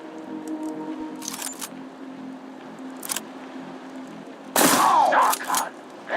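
Gunshots ring out in the video game Mutant Year Zero, a few sharp reports early on, then a loud burst of rapid gunfire near the end with a whining tail.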